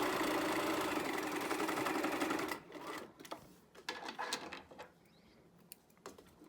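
Sewing machine top-stitching folded fabric over a pinned seam, running steadily for about two and a half seconds, then stopping into short, scattered clicks and handling noises.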